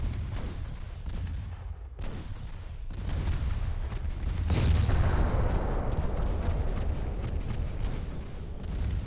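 Naval guns fire at an enemy warship in the Ultimate Admiral Dreadnoughts game, with deep booming salvos that rumble on, overlapping volleys and heavy low explosions continuing without pause.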